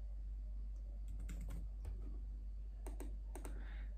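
Scattered keystrokes on a computer keyboard while taking notes, with short bursts and pauses between taps, quiet and close over a low steady hum.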